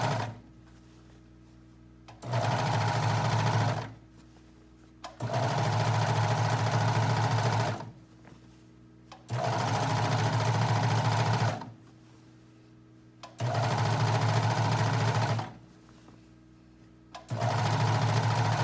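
Serger overlocking the hem edge of fabric for pajama pants, running in four steady bursts of a few seconds each with short pauses between, a close, fast whirring hum.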